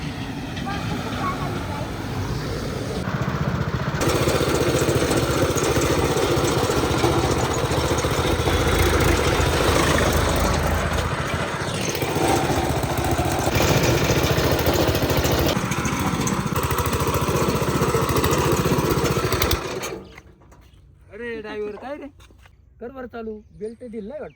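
A tractor engine runs loudly and steadily close by for most of the stretch, climbing a slope, then cuts away abruptly as a person speaks over quieter background.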